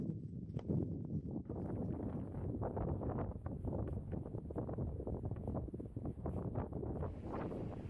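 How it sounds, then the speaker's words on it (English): Outdoor wind gusts buffet the microphone in a desert valley of sandstone formations, a loud rumbling roar with flapping bursts that stays continuous throughout, no voices heard. "And the wind is back."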